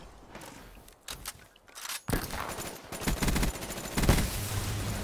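In Black Ops 3, a gun fires in a few sparse shots at first and then breaks into sustained rapid automatic fire that stays loud and close, with a brief louder burst near the end.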